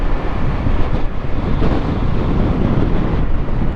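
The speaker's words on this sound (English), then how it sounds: "But it is windy." Steady, heavy wind outdoors in Shibuya, Tokyo roars and buffets the microphone throughout, a dense low rumble with no pauses.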